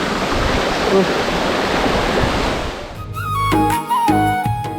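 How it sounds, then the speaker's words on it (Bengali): Water from Muppochora waterfall in Bilaichhari, Rangamati, a broad cascade over 100 feet high, rushes past in a strong stream, a loud dense roar that gives way after three seconds to someone speaking over a quieter flow. "এই জায়গাটি দেখতে পাচ্ছেন প্রচুর স্রোত, এই ঝর্ণার পানি নেমে এদিক দিয়ে আসতেছে।"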